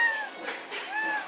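A cat meows twice, a short call at the start and another near the end, fairly close and clear, with quiet room noise between the two calls.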